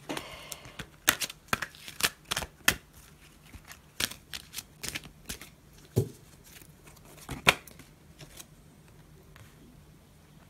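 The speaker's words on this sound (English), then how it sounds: "Cards falling out." Tarot cards are shuffled by hand in a quiet room, giving a run of crisp riffling snaps and soft flicks in uneven bursts, with a louder slap of cards near the middle and another toward the end.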